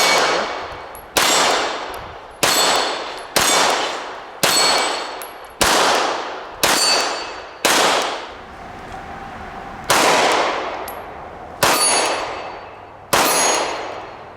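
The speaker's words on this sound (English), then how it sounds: "And now I'm shooting some 124 grain NATO ammunition" A Vickers edition Glock 17 pistol fires 124 grain NATO ammunition at steel targets on a range. Eleven sharp, loud single shots come at a steady pace about a second apart, each ringing off briefly, with one slightly longer gap midway.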